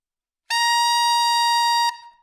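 A saxophone plays a single sustained high altissimo note with more mouthpiece taken in, full and steady for over a second before fading, heard alone and close.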